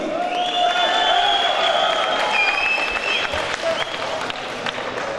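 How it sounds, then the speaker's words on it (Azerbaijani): Crowd applauding at an MMA fight night in a hall, dense sustained clapping with scattered cheers, while an announcer's voice carries over it. "Alqışları görün."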